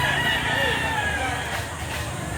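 A rooster crows loudly and close by at a busy chicken market in Lipa City, Batangas. A single drawn-out crow rises above a background of ambient noise.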